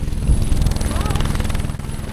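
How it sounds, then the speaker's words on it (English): A helicopter flies near ski slopes on the Italian-Swiss border by Zermatt, its rapid, steady rotor thumping loud and close under people talking. "a helicopter dropping off guests directly on the slopes"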